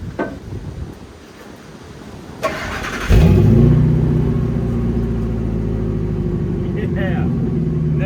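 A Ford F250 pickup truck engine cranks and catches with a sharp burst, then settles into a loud, steady low rumble with slight revving, heard up close after some quieter background noise.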